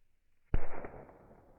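Burning lithium metal bursts in a single sharp explosive crack, followed by a short fizzing, crackling tail that fades out.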